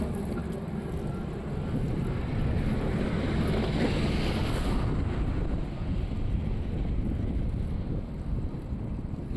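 Strong wind roars across the microphone while cycling outdoors in Sweden, a steady loud broadband rush that swells slightly in the middle and continues without a break for the whole stretch.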